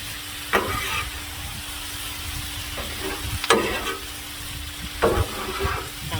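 Hawaiian chicken fried rice sizzles in a hot pan under a constant frying hiss, and a few sharp scraping stirs of the utensil come at irregular intervals close by, with no talking.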